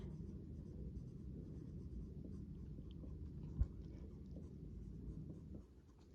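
A pen or pencil moves across paper while notes are written by hand, giving soft, faint scratching strokes with one small tap partway through, close to the microphone in a quiet room.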